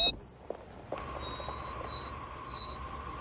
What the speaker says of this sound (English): if that beep just blew your eardrums out